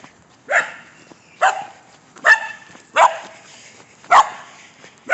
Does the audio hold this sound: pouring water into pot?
no